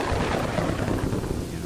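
Rumbling thunder and rain from a lightning storm in the city-building game Kingdoms and Castles, a continuous dense roar of low crackling booms lasting throughout, fairly loud.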